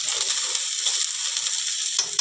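Chilli, garlic and onion hitting hot oil for tempering, a loud, dense crackling sizzle that holds steady for a couple of seconds at close range.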